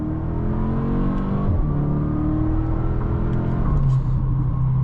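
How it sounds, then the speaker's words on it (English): Four-cylinder engine of a 2023 Audi S3 Premium Plus pulling steadily under acceleration, a continuous close cabin drone with rising and shifting tones, no talking over it. "I really like the way this 4-cylinder sounds."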